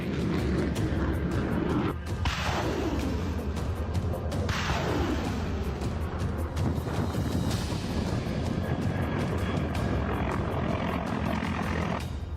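A Russian Mi-28NM attack helicopter's engines and rotors make a steady, loud, dense roar throughout, with two sweeping whooshes as it passes close, and no speech.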